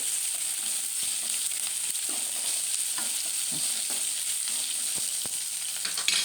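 A steady, continuous sizzle of salted onions frying in a pan with faint stirring taps underneath, close up and even, no talking.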